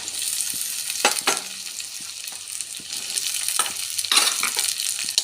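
Cut eggplant being fried with onions in a pan, with a steady close sizzle and a few scraping stirs and clinks, and no talking.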